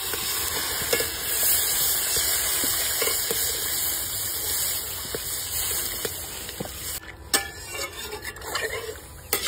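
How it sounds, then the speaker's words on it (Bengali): Water pours into chicken masala frying in oil, a steady broadband hiss and gush of liquid meeting the hot pan running throughout, with scattered clinks and stirring knocks, close and continuous with no voices. "মশলার থেকে তেলটা ছেড়ে দিয়েছে, এবার আমি জল দিয়ে দিচ্ছি।"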